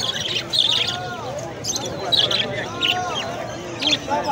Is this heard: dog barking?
no